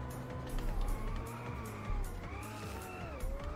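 A car drifting in the racing game Inertial Drift, its engine whining and rising and falling in pitch as it slides through turns, steady and fairly close with no talking.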